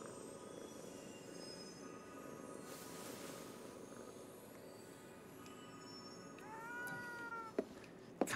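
A cat meows in an apartment in the video game Ghostwire Tokyo: a couple of short, clear meows near the end over a faint, constant ambient hum.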